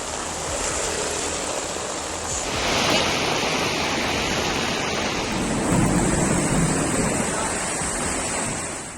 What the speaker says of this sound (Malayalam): മഴയിൽ വെള്ളത്തിലായി കൊച്ചി.